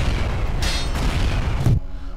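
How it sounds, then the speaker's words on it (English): An explosion in the dragon-fighting video game Kings of Lorn: a loud, dense rumbling blast with a sharp burst partway through, sustained for about two seconds, then cutting off to a quieter hum. "it exploded"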